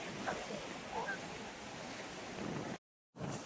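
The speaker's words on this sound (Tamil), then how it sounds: "கடல் அலைகளுமே பாருங்கள் கால் கிட்ட வந்து அடிச்சிட்டு இருக்கு" Sea waves surge and break close by on the shore at Bandstand, Bandra, a steady broadband wash with wind noise on the microphone, cut by a brief silent gap near the end.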